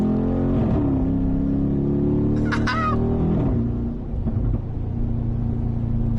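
A Mercedes-AMG G63 V8 engine rumbles loudly from inside the cabin while driving, its deep steady drone shifting pitch as revs change, with a brief higher whine midway.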